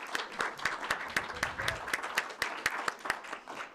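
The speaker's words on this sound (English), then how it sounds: "a big round of applause to the New Canaan" A small audience at a library talk on the artist Arthur Szyk gives a round of applause. It is sparse and fairly close, with individual claps standing out as a loose, uneven patter rather than a dense roar.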